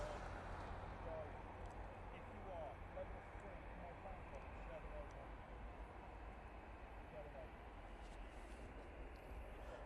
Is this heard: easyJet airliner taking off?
yes